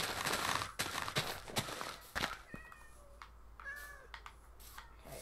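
Cats meow several times in Minecraft, short high mews scattered across the clip after a burst of footsteps and clatter at the start, moderately close and fairly quiet.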